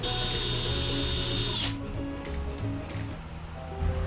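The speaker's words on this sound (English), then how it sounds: "right now I'm just gonna try a trusty old drill" A power drill whines steadily at high speed working on a converted school bus, then stops abruptly, leaving low rumbling and a few faint clicks, close and loud.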